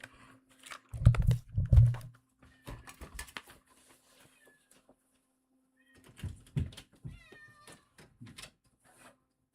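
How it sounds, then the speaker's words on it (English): A young kitten meows in two short bursts of close, loud cries, then again after a pause, with keyboard clicks and faint rustling between them. "gotta get my cat"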